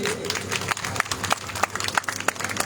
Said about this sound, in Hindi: बता दो ताली थोड़ी।